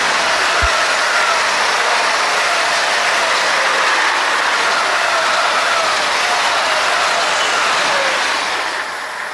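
A regional express train departs Büchen station with broad hissing, rattling rail noise and a faint high whine, steady and close throughout before easing slightly at the end.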